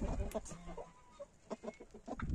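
Chickens and a hen with her grown chicks in a farmyard in the snowy cold season give soft, scattered clucks and short calls, close by and quiet.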